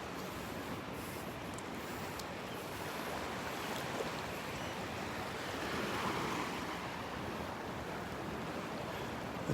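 Ocean surf washes steadily onto the beach at Wiggins Pass as the tide goes out, a continuous broad roar of breaking waves with light wind noise and no talk.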